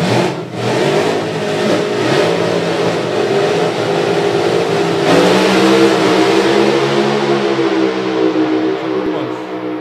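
Two drag racing cars launch side by side at a drag strip, engines roaring loud and continuous for the whole stretch, with a sharp surge of power midway as they accelerate hard down the track.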